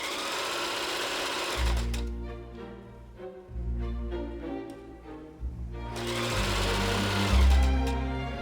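A sewing machine stitching a garment's waistband runs in close, steady bursts of rapid mechanical chatter, pausing and restarting several times with a deep motor hum beneath the needle's rhythmic clatter.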